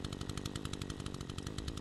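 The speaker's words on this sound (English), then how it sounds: "We have a crazy person with a chainsaw here." A chainsaw revving in the indie horror video game An Evil Existence, a loud, rough, rapidly pulsing motor buzz that stays continuous and close for the whole moment, with no talking.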